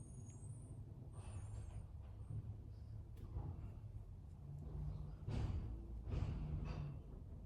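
A garbage truck working outside, its low engine rumble steady throughout, with hissing air-brake sighs and mechanical bursts toward the end, heard from indoors at some distance.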